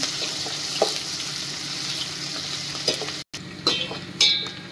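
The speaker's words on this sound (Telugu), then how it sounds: "ఆనియన్ 2, మంచిగా ఫ్రై కావాలి." Onions fry in a pan with a constant close sizzle, broken by occasional spatula scrapes and stirring knocks, with a brief cut near the end.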